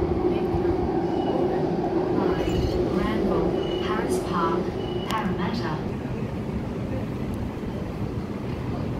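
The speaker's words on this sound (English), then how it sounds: "Waratah A37 departing platform 4" A Waratah A37 train departs platform 4 at Chatswood with a steady, loud rail rumble and a faint whining tone partway through. Someone talks over the noise.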